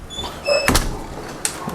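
A door swings shut with a heavy thud, followed moments later by a second sharper knock as it is secured, in a quiet indoor room.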